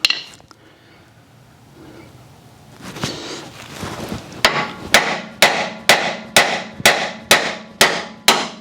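A hammer strikes a steering pitman arm in a regular series of about nine sharp metallic bangs roughly half a second apart, preceded by some handling clatter and rustling.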